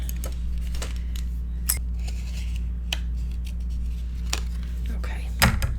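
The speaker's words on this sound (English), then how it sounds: "So let me just cut some of these out." Scissors snip out paper pieces for a mini album: several sharp, close cuts spaced unevenly over a low steady hum, with a louder clatter near the end.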